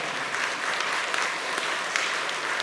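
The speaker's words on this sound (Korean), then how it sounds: "이때는 박수를 쳐야 합니다" A church congregation applauds steadily during a Sunday service, a dense wash of clapping from many hands that holds an even loudness throughout.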